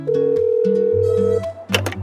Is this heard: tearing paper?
no